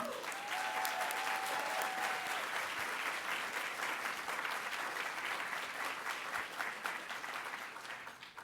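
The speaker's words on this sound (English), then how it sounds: "Please join me in a round of applause as we thank them for their commitment to justice and democracy." Sustained applause from a crowd at a Dr. Martin Luther King Jr. awards dinner, dense clapping that stays loud throughout and tapers slightly at the end.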